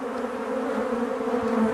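Honeybees buzz steadily around an open hive during an inspection, a close, continuous droning hum with slight wavering in pitch.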